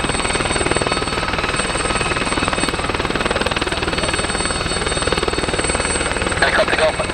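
A helicopter idles or hovers at Kemble Cotswold Airport, a steady loud rotor and turbine drone running throughout beneath radio-style air traffic chatter.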